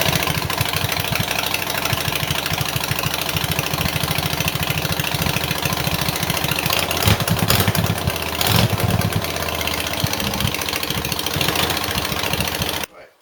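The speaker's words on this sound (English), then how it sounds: "So let's warm the bike up and then we can drain it out." A Harley-Davidson Sportster engine warms up at idle, a steady close, loud lumpy rumble that carries on without a break for about thirteen seconds before shutting off.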